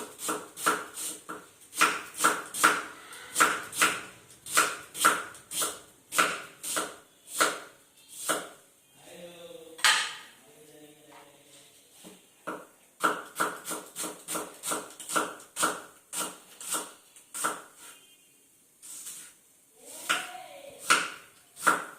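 A large onion sliced into strips by knife on a cutting board, giving steady rapid chopping taps in bursts with brief pauses, close and clear.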